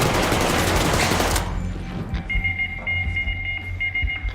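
Rapid video game gunfire bursts loudly at first, then gives way to sparser shots and electronic tones.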